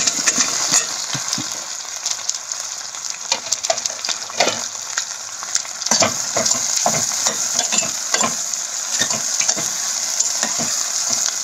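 Cut okra fries in a pan with a continuous crackling sizzle, broken by frequent clacks and scrapes of stirring, close and loud, with no one speaking.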